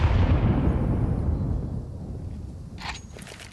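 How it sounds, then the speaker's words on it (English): HE grenades go off in a Counter-Strike 2 match, a heavy booming blast that rolls out and decays over a few seconds, followed by faint clicks and brief game noise. "Double barrage, your HE's on short as well"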